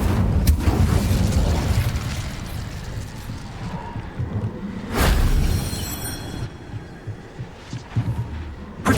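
An Incendio fire spell is cast in Hogwarts Legacy: a dense, roaring burst of magical flame with sharp whooshing flares near the start and again midway, then crackling fading away.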